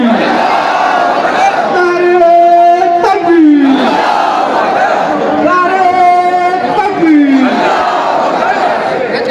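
A large crowd at a Muslim protest rally in Sillod chants the Takbir slogan. Two loud, close rounds of massed call-and-response voices rise and fall over a constant roar.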